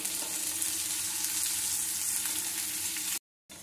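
Yellow and red bell peppers and chopped capsicum sizzle and hiss steadily in a hot pan while being stirred for schezwan fried rice. The frying stays close and loud with no talk, then cuts out to silence briefly near the end.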